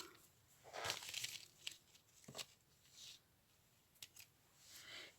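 Scissors snip sewing threads on a recycled plastic pouch, several quick, close crisp cuts and rustles of plastic, spaced unevenly over a few seconds with no talking.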